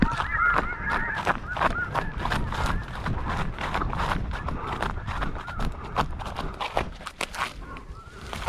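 Snow geese honk constantly during a spring hunt in Alberta, a dense chorus of sharp yelping calls from many birds, near and far at once, with rapid thumping and rustling mixed in.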